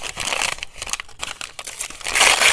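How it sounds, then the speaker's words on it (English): Paper pieces are wrinkled and crumpled close up for a stack-challenge craft project, giving bursts of crisp crinkling and rustling that pause briefly before a louder, denser crunch at the end. "I know it's probably real crinkly in your ear"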